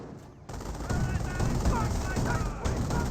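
Sustained automatic gunfire and rapid bursts rake a lieutenant's squad in the WWII strategy game Company of Heroes, Wehrmacht against British, a dense, loud barrage running almost without pause.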